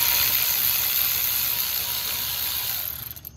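A ratchet working loose a brake caliper bolt on a 9th-generation Honda Accord gives off steady, close mechanical clicking that runs continuously for about three seconds, then tails off briefly.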